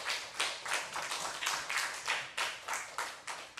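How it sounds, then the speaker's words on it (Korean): A church congregation claps together at a night revival service, a dense run of rhythmic, roughly steady hand claps filling the room with no talk over it. "하나님께 다시 한번 영광의 박수 올리겠습니다"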